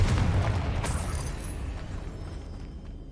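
A Confringo spell detonates in Hogwarts Legacy: a heavy, close boom at the start that rolls into a rumbling tail and slowly fades over about three seconds, with no voices.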